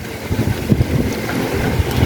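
Gusty wind buffets the microphone outdoors, a continuous low rumbling roar with uneven surges and no talking.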